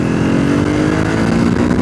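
A Triumph Scrambler 400X motorcycle engine pulls hard in third gear, a loud, steady near drone with layered harmonics and no break across the short span.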